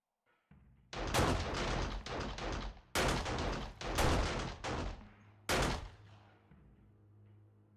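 Gunfire in the video game 7 Days To Die: several loud, close bursts of rapid shots, separated by short pauses, with a fading ring after the last burst.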